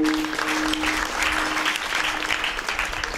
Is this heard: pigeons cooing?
no